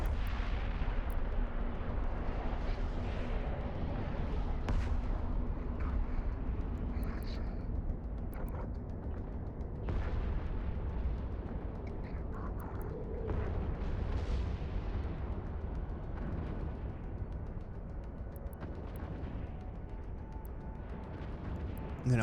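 Ship weapons firing at pirates and sentry guns in the space game EVE Online, continuous heavy rumbling booms and blasts layered over a dense low roar, loud and sustained throughout.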